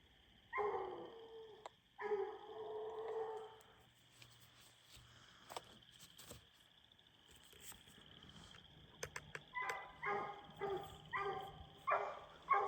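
Hunting dog barking at quarry up a tree at night, repeated bursts of barking from some distance, a cluster early on, a lull with clicks and rustles, then a rapid run of barks toward the end.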